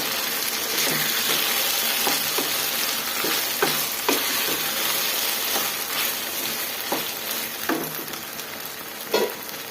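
Masala sizzling steadily in a pan for a gojju, a close, continuous crackle punctuated by repeated sharp scrapes and taps of a spatula stirring at irregular intervals, with no voices.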